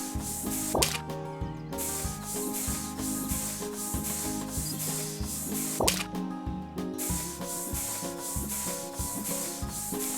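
Steady rubbing and scrubbing sounds from cleaning a counter in a video game, repeating in a regular rhythm over a droning tonal music bed, with no talking.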